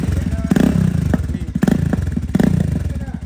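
A motorcycle fitted with a loud aftermarket exhaust rumbles close by with a deep, throbbing beat, swelling in short bursts of throttle.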